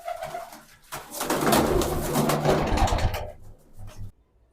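Prize-winning racing pigeons coo loudly and close by in a throaty, rolling burst lasting about three seconds before falling quiet.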